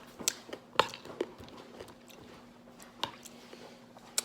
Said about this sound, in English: I never knew pomegranate had so many seeds in it. Or so, like, crisp, crunchy.